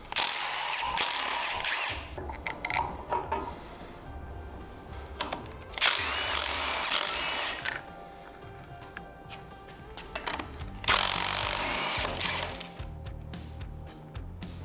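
Power tool removing the flywheel bolt on a Predator 670cc V-twin engine, several loud ratcheting, rattling bursts separated by quieter pauses, close by.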